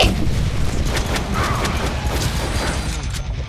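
Heavy explosions and gunfire in the Deadpool video game rumble continuously, with dense crackling blasts layered over a deep, steady boom throughout.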